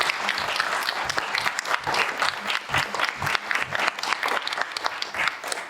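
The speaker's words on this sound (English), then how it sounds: "Can we get a big round of applause for everyone here?" A live podcast show crowd gives a big round of applause for the venue staff, dense overlapping clapping with scattered sharper claps, sustained at full strength throughout without speech.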